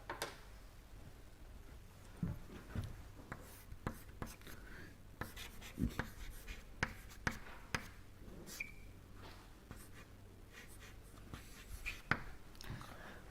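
Chalk or marker writing equations on a lecture board, a run of scratchy strokes and sharp taps spread across the span, moderately close in a quiet room with no talking.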